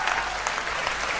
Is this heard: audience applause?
yes